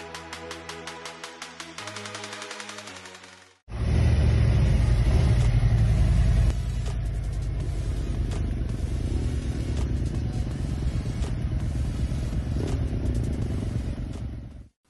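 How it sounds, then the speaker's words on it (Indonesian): Several motorcycles warming up at home in the morning: a steady pulsing idle, then a louder engine starts with a burst of revving and settles into a loud, continuous rumbling idle nearby. "Tidak lupa saya juga memanaskan motor-motor kesayangan saya."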